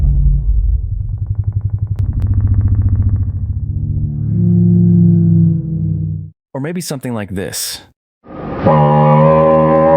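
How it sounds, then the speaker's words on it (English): Real animal sounds slowed down into a fake T-Rex roar: deep, drawn-out rumbling roars, loud and close, with a short burst of speech between the roars. "What you just heard was real animal sounds simply slowed down."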